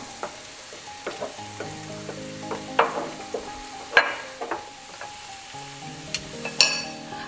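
Soy sauce sizzling and spitting in a hot frying pan during cooking of an Iranian green bean and rice dish, with steady frying crackle, sharp pops and brief bursts, close and fairly quiet.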